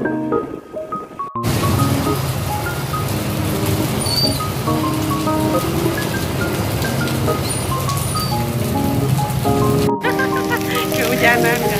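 Steady rain falls in a noisy, sustained wash over an outdoor scene, with music-like tones and voices mixed over it throughout.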